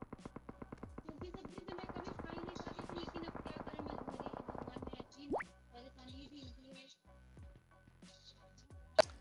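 Gunfire in the mobile shooter PUBG Mobile, a rapid burst of automatic shots for several seconds followed by scattered single cracks and whizzing rounds, with game effects in between.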